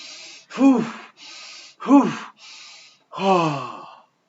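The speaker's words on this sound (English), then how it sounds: "start breathing a bit fast again." A person does a fast breathing exercise, with three loud, quick breaths in and out in a rough rhythm. Each audible breath is followed by a quieter airy one, close to the microphone.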